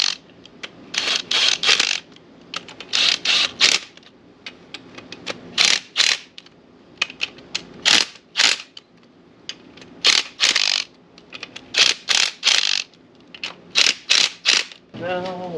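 A hand ratchet tightens bolts on a turbo transmission for an RX7, giving repeated bursts of loud, close clicking in quick runs separated by short pauses, with no talking.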